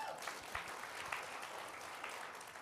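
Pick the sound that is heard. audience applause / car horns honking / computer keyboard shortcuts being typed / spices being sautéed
audience applause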